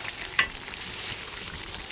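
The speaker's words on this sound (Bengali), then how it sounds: "কষাচ্ছি মাংস, খুন্তিটা দেখেছো এইটা বড়" Chicken meat stir-fries in a large wok, turned with a big spatula, giving a soft, continuous sizzle and one sharp metallic scrape near the start, fairly quiet and close.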